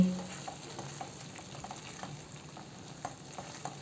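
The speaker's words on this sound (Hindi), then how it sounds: "मसाले को अच्छे से भूनना बहुत ज़रूरी है।" Masala for a cauliflower and pea korma stir-fried in a pan, a continuous close sizzle broken by small scrapes and taps of the spoon as it is stirred, with no voices.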